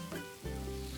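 Ground spices, heavy on coriander with salt, roast in a hot pan. A soft, brief sizzle is heard alone and without talk.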